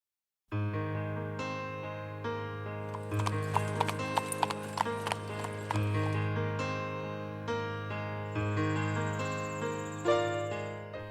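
A horse-drawn Amish buggy in the Pennsylvania Dutch farm country near Lancaster clip-clops along at a steady trot, hooves close and clear over a sustained hum of insects.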